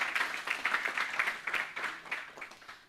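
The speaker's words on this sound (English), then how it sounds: "Let's give a round of applause to our presenters today." Audience applause at a lab-to-market roadmap talk: soft, scattered clapping from a seated crowd, faint and somewhat distant, tapering off over a few seconds.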